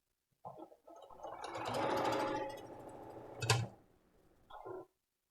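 A sewing machine stitches quilt block seams in one sustained whirring run of needle strokes, then stops and gives a short final burst. The sound is close and there is no talking.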